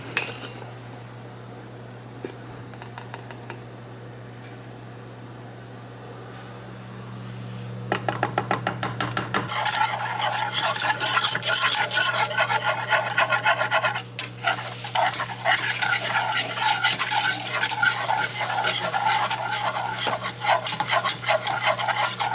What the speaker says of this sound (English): I'm going to work on the roux now